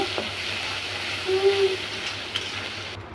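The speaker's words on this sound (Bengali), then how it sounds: "মাছগুলোকে ভেজে নিচ্ছি।" Prawns seasoned with salt and turmeric fry in a pan, giving a soft, steady sizzle close by with a faint tonal hum partway through; fairly quiet and without talk.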